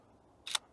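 A single quick camera shutter click outdoors in autumn woodland, a brief crisp snap out of near silence.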